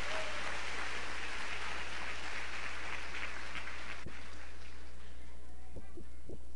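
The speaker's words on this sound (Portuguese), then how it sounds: "Dá um aplauso a Jesus então, se você concorda com essa palavra." A church congregation applauds in a broad, sustained wash of clapping that fades toward the end, leaving a few isolated knocks.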